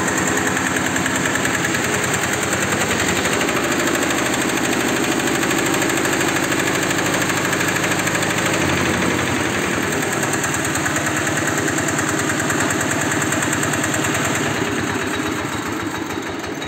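A used Japanese Kubota K7 cultivator engine idles loud and close, a steady knocking chug with a constant vibrating drone that holds unbroken throughout, no voices.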